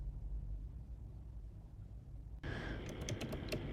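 Quick keystrokes on a computer keyboard while entering a git config command, a burst of close, crisp clicks starting partway through after a quiet low hum.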